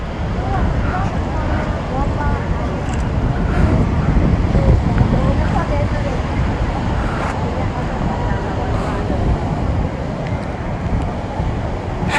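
Rough, turbulent sea surf at Cox's Bazar beach, with a loud, continuous broadband roar of crashing waves and heavy wind buffeting the microphone throughout.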